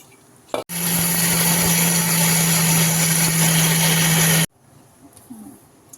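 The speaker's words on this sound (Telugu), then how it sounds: "ఇలా మిక్సీ వేసేసుకోవాలి." A mixer grinder whirs loudly and continuously for about four seconds, grinding idli karam spices with rock salt, then cuts off abruptly into quiet.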